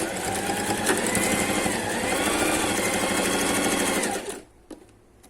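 Sewing machine stitching elastic onto a fabric mask with turban-style fabric, running loud and steady close by for about four seconds before stopping abruptly, leaving quiet handling sounds.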